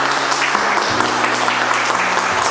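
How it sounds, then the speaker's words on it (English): Wedding guests applaud together right after a couple is declared married, steady broadband clapping with a low sustained tone running beneath it, holding at an even level throughout. "Je vous les applaudir."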